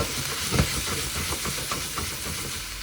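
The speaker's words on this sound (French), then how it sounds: "Pendant que nos poivrons reviennent comme il faut" Bell peppers sizzle in a pan over caramelized onions, giving a steady close hiss of frying with a few soft stirring scrapes.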